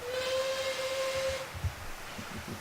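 A model steam locomotive in LMS black sounds its whistle once, a steady shrill tone with hiss lasting about a second and a half before cutting off, followed by a soft mechanical knock.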